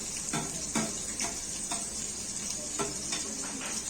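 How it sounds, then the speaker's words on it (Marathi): Masala paste fries in oil in a hot pot, a soft sizzle under repeated scraping stir strokes at an even rhythm, close and fairly quiet. "वाटण घालून घेतलं की तेल सुटोसपर्यंत एकसारखं वाटण हलवायचं"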